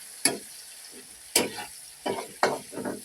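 Garlic sautéing in a pan for adobong sitaw, with several separate bursts of sizzling and stirring scrapes spaced across the moment, close and moderately loud, with no talking.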